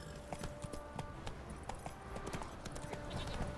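Horse hooves clip-clop at a steady walking rhythm in The Witcher 3: Wild Hunt, the crisp, close hoofbeats repeating over faint ambient game sound with no voices.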